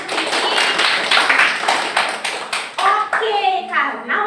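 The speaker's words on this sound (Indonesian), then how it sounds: "Yang kita tepuk tangan sekali lagi untuk Kristi." Children in a classroom clap together in a quick burst of hand claps, then the clapping fades as a voice and other voices start talking.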